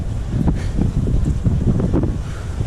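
Strong wind gusts buffet the microphone on a beach at Canoa Quebrada in northeast Brazil, a loud, continuous rumbling roar with surging blasts and no other sounds.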